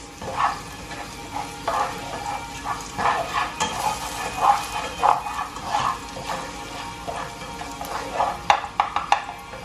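Fish stir-fried in a hot pan for a mixed seafood dish sizzles steadily, with repeated scraping and clacking of a utensil stirring the pieces in an uneven rhythm, no voices present.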